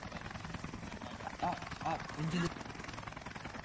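Helicopter in the video game ArmA 3, a steady broadband rotor and engine drone running through the whole clip beneath loud excited speech.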